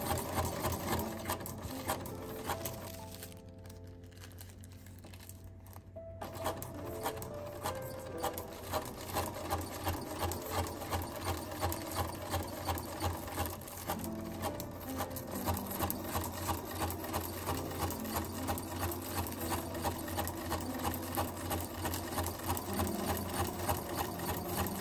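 A sewing machine runs steadily and close up while stitching pleated ruffles from sewing pattern paper. It gives a continuous rapid mechanical chatter with a brief slowdown early on, then keeps a fast, even rhythm, with no talking.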